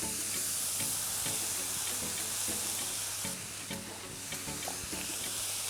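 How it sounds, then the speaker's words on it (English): Mushrooms fry on high heat in a cast iron pan for a plant-based Thanksgiving dish, giving a loud, steady, close sizzle with scattered stirring scrapes and no voices. "Add your mushrooms."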